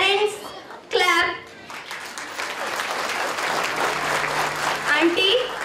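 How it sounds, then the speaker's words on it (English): Parents applaud at a preschool annual day celebration in Ambernath, a sustained wash of many hands clapping that follows brief high children's voices near the start and continues steadily under faint chatter. "Parents, clap."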